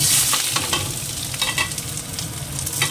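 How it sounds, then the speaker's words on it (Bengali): Chopped onion fries in oil in a wok, a loud, continuous close sizzle with bursts of spatter and stirring noise throughout. "আগে পেঁয়াজটাকে ভেজে নেব"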